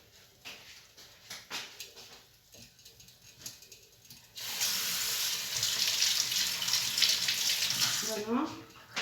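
A kitchen tap turns on partway through and runs steadily while hands are washed during cooking prep. It is preceded by scattered handling sounds and a dog's faint whimper, and the water stays loud and close until it shuts off near the end.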